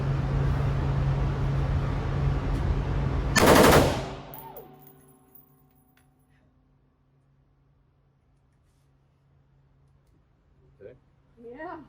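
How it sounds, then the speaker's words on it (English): A machine gun fires one short, very loud burst of rapid rounds up close on a firing range, sounding over steady engine-like background noise before it falls quiet, with faint voices afterward. "go ahead and squeeze that trigger and cut off a few rounds"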